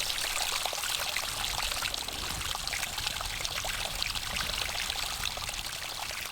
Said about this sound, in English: It was pleasant with all that water splashing around